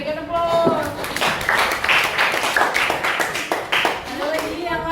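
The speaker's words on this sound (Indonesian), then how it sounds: "berikan aplaus" A group of schoolchildren and a teacher clap in a classroom, a lively burst of many hands applauding together over several seconds, with some voices mixed in underneath.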